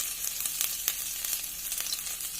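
Red chilies and ginger sizzle in hot oil in a pan with cumin seeds over lowered flame, a steady close crackling hiss with small pops, no talking.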